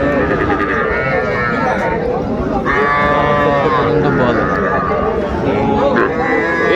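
Calves lowing among cattle at Ambari livestock market in Dinajpur, a drawn-out moo rising over constant crowd chatter and bargaining voices, with several overlapping bleat-like calls across the busy open-air haat.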